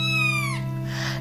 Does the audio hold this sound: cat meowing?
yes